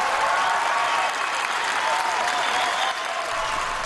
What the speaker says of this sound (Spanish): Se escucharon los aplausos durante la aprobación unánime del Acuerdo Climático Global